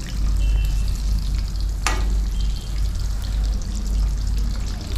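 Breadcrumb-coated chicken chops frying in oil, a dense steady sizzle with a low rumble underneath and one sharp clink partway through, no talking.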